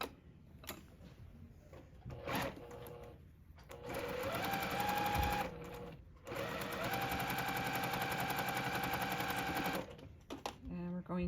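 A sewing machine chain pieces curved convex and concave quilt block seams, running in two long steady bursts with a short rapid start and brief pauses between, loud and close with no talking.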